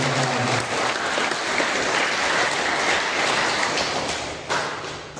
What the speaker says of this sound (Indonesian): Kita berikan tepuk tangan kepada